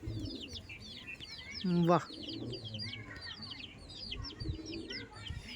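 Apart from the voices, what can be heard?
pigeons cooing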